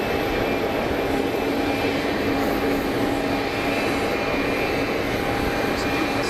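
An Airbus A220 jet rolls down the runway for takeoff at Geneva Airport, its engines a steady, broad roar that fills the whole stretch with no letup, heard from a distance and with no voices over it.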